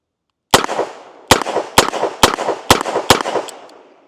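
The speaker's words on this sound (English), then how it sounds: "last shots with Smith and Wesson Model 19" A Smith and Wesson Model 19 revolver fires six loud, echoing shots nearby. One shot rings out alone, then five more follow in a steady, fairly quick rhythm, each ringing briefly before the next.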